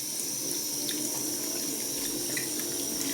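Tap water runs steadily into a kitchen sink for cleaning a Siemens washing machine detergent drawer, a constant close splashing hiss with no pauses.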